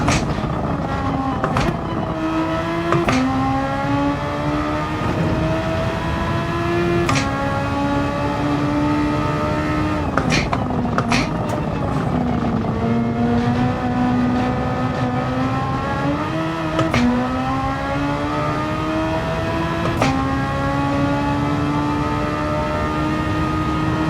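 Race car engine in Gran Turismo 7 on the Nürburgring endurance layout, droning loud and continuous with rising and falling pitch through gear shifts and revs, no talk over it.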